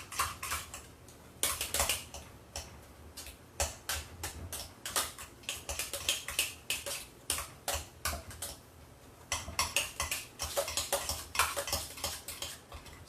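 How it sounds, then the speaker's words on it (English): Potatoes are mashed with olive oil and lemon juice, a rapid run of close, rhythmic metal-on-bowl clacks and squelches that pauses briefly before resuming, with no talking. "So I'm just going to mash these up."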